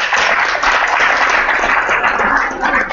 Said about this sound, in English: So, and applause to you.